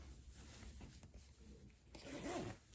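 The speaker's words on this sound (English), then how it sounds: "Now that both halves of my zipper are attached, I'm just going to close it up" A zipper closes on a sewn duvet cover with a quiet, close, rasping run that rises to a brief louder pull near the end, with no voices.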